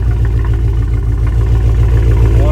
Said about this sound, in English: this is what it sounds like, straight piped out